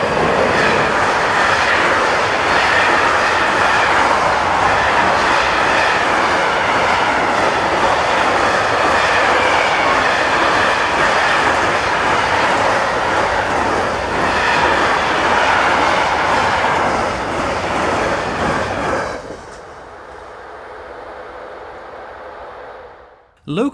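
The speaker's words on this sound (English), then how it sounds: "DB's 478-001 heads a container train bound for Austria." A DB Class 478 locomotive hauls a container train on a line near Hegyeshalom, a loud, steady rumble with wheel clatter passing close by for about nineteen seconds before dropping away abruptly to quiet.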